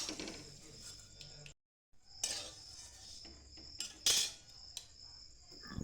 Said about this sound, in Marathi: तेल तूप न टाकता आधी थोड्याशा भाजून घ्यायच्या। बघा तर मग मी कशा भाजते, आलटून पलटून चांगल्या भाजून घ्यायच्या खमंग बघा